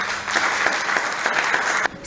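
Sustained applause rings out as a minister is elevated to grand officer of the National Order of Benin at an award ceremony, steady and fairly close, then stops abruptly near the end.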